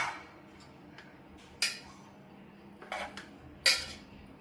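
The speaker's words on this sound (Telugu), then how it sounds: "ఆనియన్స్ కట్ చేసేసి." A knife chops onions in a home kitchen, a few sparse, crisp taps against a board spaced about a second apart in a quiet room.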